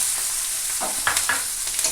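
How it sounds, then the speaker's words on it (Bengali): Garlic and a little onion sizzle in hot oil in a pan, a constant bright hiss broken by a few short stirring scrapes near the end, no voices. "আর একটু রসুন এবার দিয়ে দিচ্ছি।"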